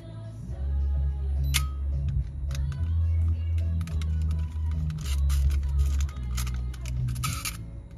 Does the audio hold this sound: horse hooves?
no